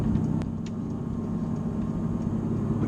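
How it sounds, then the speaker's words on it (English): A 2017 Mercedes-AMG GT S idles at low speed in comfort mode, a steady, quiet low rumble that holds even throughout, heard alone. "At low speeds or when stopped in comfort mode, the engine is reasonably quiet."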